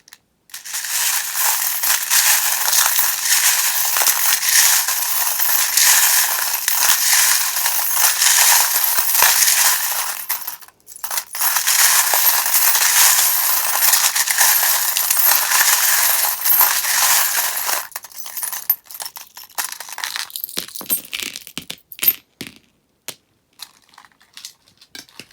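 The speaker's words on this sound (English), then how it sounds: "If you don't like the sound of the charms, or if you're wearing headphones, or if you have the volume turned up really loud, please turn it down while I shuffle" Metal charms for a tarot and charms reading are shuffled in long, loud stretches of dense rattling and clinking, pausing briefly near the middle, then giving way to sparser individual clicks and taps toward the end, with no talking.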